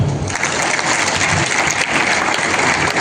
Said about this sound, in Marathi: तर टाळ्या वाजवायच्या.